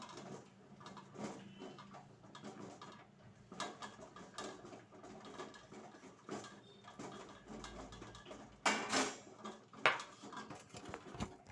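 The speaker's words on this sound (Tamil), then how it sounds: "இனி இந்த பொடி எல்லாமே நம்ம அதில் கலந்து மிக்ஸ் பண்ணிக்கலாம்" Powders being stirred into coconut oil for handmade soap, heard as quiet scraping and irregular clinks of a utensil against a bowl, with a couple of louder knocks and scrapes near the end and no talking.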